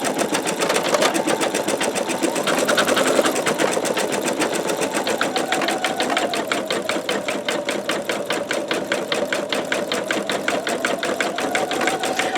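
An embroidery machine satin stitching a quilt block in a magnetic hoop: a fast, steady mechanical chatter of needle strokes, close and continuous, with a faint motor hum beneath.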